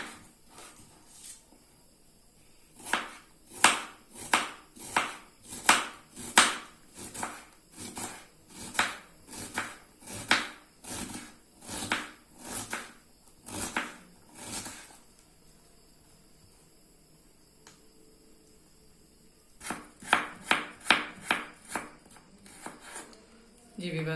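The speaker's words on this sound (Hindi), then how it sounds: "अब हम इसी तरह से प्याज को भी बारीक बारीक चॉप कर लेंगे।" A knife chops onion finely on a board for corn chaat, tapping in a steady, crisp rhythm for about fifteen seconds, then pausing before a short, faster flurry of cuts.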